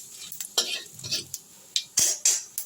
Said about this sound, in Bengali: ফোড়নটাকে আমি নেড়ে নিচ্ছি।